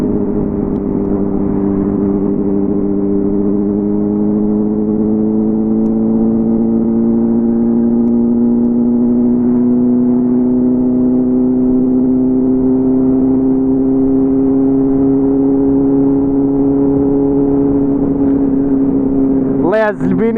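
A choked motorcycle engine runs rough on a road with a steady, low, close drone that slowly shifts in pitch, ending with a short sharp noise.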